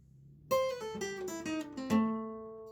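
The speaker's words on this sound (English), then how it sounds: "I'm going to show you a really quick little lick you can add into your blues lead playing." A short blues lead lick in A on electric guitar: several plucked notes stepping downward, ending on a sustained ringing note, played alone and clearly.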